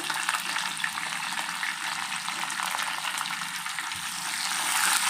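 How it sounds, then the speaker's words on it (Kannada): Green chillies and curry leaves frying in hot oil in a pan, giving a steady, close, loud sizzle and crackle throughout, with no one speaking. "ಸ್ವಲ್ಪ ಫ್ರೈ ಮಾಡ್ಕೋಬೇಕು ಹಸಿಮೆಣಸಿನ್ಕಾಯಿ ಕರಿಬೇವು ಸೊಪ್ಪು"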